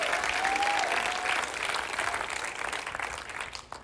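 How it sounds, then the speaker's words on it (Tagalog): A church congregation claps together in loud, dense applause that fills the room from start to finish, tapering slightly toward the end, with a brief whistle-like tone early on. "palakpakan mo yung Panginoon"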